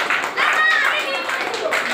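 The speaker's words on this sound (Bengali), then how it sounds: "ঠিক আছে, একদম চলে আছে, জোরে হাততালি।" Schoolchildren at a primary school quiz clap loudly together in a brief burst, with voices speaking over the clapping.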